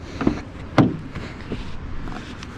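Rear door of a Peugeot 508 shut with a short, solid thud near the start, followed by a faint click and quiet handling noises.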